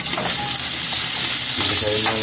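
Onions drop into very hot oil with golden-brown garlic for pork pakbet, producing a loud, dense sizzle that stays close and steady, with a brief metallic scrape and a swell of crackling near the end.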